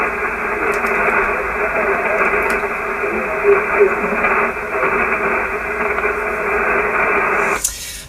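A weak amateur radio station comes through a steady hiss of static on a receiver, a faint murmur buried in the noise that cuts off abruptly near the end.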